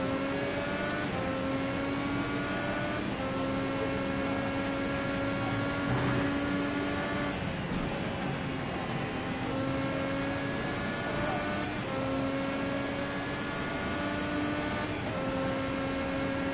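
Open-wheel race cars circle Watkins Glen at full throttle, a loud, sustained high-revving engine drone with repeated upshifts and pitch steps, sometimes several cars overlapping, with a commentator's voice mixed underneath.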